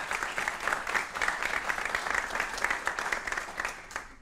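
An audience at a Hindi-language event on exam stress breaks into sustained applause, many hands clapping in a dense, even patter that carries on steadily before tapering at the end.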